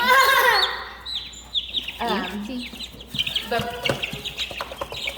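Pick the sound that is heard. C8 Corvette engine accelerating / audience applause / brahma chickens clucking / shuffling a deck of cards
brahma chickens clucking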